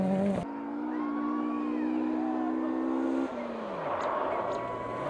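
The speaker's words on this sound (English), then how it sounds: "Dylan Van Way is looking great coming through the stage" Rally car on a forest stage during a championship event in Oregon, its engine holding a steady high drone, then dropping in pitch as it shifts and passes, with faint tire noise.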